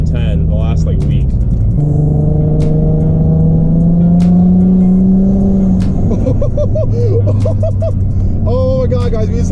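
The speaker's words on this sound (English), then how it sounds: "Oh my God, guys, we just hit boost." A Nissan G35 with a custom rear-mount turbo comes onto boost, its engine note climbing and holding in a loud droning pull before dropping and revving again, recorded from inside with excited voices talking over it.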